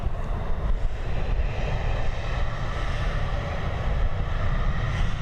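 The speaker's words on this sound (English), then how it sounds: "the Copenhagen flight heading over to the Boeing 737 Max flight even heading over to Copenhagen, now on departure" Boeing 737 Max airliner departing Dublin Airport for Copenhagen, a steady broadband engine roar with strong low rumble, sustained and fairly loud throughout without talk.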